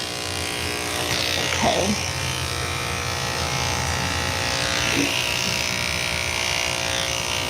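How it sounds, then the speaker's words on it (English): An electric grooming clipper buzzes steadily close by while working on a Shih-Tzu's feet, a continuous whine with brief rustling bursts, and a voice speaks briefly over it. "She really doesn't like the clipper on her feet."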